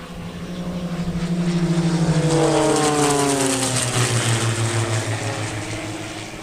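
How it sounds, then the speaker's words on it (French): French Air Force aerobatic airplanes fly past at a hot-air balloon festival, their propeller engine drone swelling loudly as they near and then holding as a steady roar with a falling pitch as they pass. "Les avions sont là."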